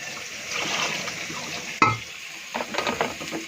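Steady sizzling of food frying in a pan, with a sharp clink partway through and a few utensil scrapes and stirs toward the end.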